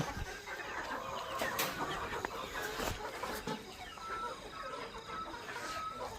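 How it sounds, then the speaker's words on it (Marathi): Chickens cluck nearby in scattered, overlapping bursts, with faint rustling and outdoor background noise. "आपली ही कोंबडी"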